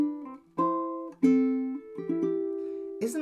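Ukulele plays a short melody in double stops, each note harmonised a sixth below, with plucked two-note chords ringing clearly and alone in a slow, lilting rhythm.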